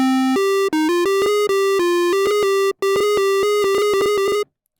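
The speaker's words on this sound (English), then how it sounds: "diodes are going to be even more crunchy and digital and bright" A synthesizer sine wave in Serum's FX rack, pushed through diode distortion so it turns bright, buzzy and harsh. It plays a string of stepped melodic notes at a steady level before cutting off at the end, with no voices.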